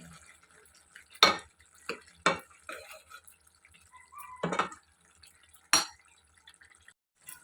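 Ridge gourd curry gets mint and coriander stirred in, with a handful of sharp spoon knocks and scrapes against the pan spaced by quiet gaps, close and crisp, with faint wet sounds between.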